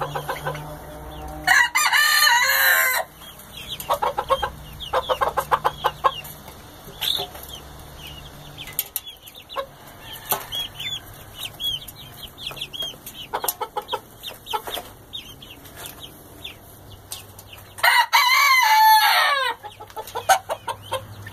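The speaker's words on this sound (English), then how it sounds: "this is the first time that my barred rocks and my silkies have been together" Barred Rock and Silkie chickens cluck and squawk close by throughout, with two loud crowing bursts near the start and again toward the end.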